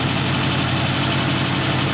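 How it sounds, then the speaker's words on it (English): A modified Toyota AE86 Levin with a swapped 1.6-liter five-valve Blacktop AE111 engine and individual throttle bodies idles up close in a parking area, giving off a loud, steady, low pulsing rumble with no talking. "The guy here is going to start his 86"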